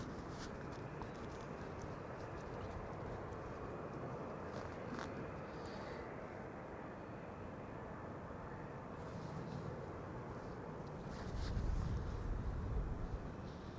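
Airplanes passing overhead while arriving at Amsterdam Schiphol Airport on a sunny day, a continuous broad distant engine rumble that swells slightly near the end, no talking.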